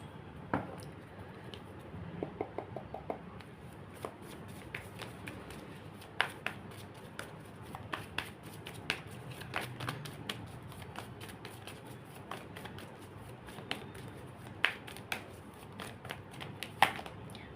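Tarot cards handled and shuffled in soft, quiet bursts, with irregular light snaps and flicks of card stock scattered over a hushed background.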